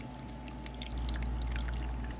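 Water pours steadily from close by into the reservoir of an essential oil diffuser, a soft trickle that grows slightly fuller after the first second, with faint background hum.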